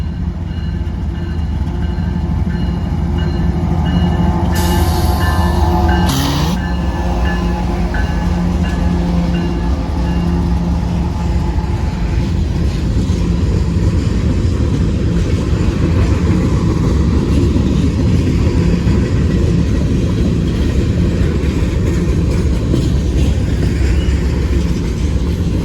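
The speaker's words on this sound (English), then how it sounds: "he is moving slow, this CSX train" A slow CSX freight train rolls past close by on a rainy morning at Bayview Road in Blasdell, New York, with a loud continuous rumble of wagons and brief higher screeches partway through.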